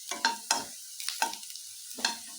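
Garlic and ginger roast in a pan for chicken Manchurian, stirred in five short, sharp scraping bursts with a soft sizzle between, close and clear, with no voices.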